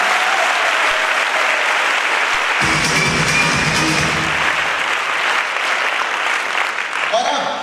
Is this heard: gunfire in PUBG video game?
no